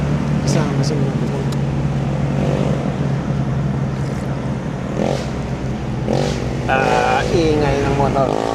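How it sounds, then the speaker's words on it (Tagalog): A motorcycle engine with a loud exhaust pipe drones steadily nearby in Tanay, Rizal, with passing vehicle noise and people talking over it. "Ingay ng motor."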